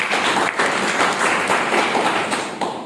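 Audience clapping for newly arrived guests at a passive-income training session, a dense steady patter of many hands sustained throughout before easing slightly at the end.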